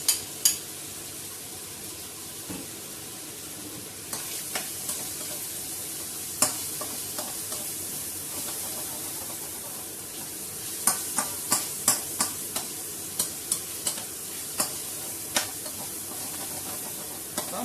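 Minced meat for Ma Po Tofu is stir-fried in a hot pan, a continuous sizzle broken by repeated sharp scrapes and taps of a spoon against the pan, close up and without talk.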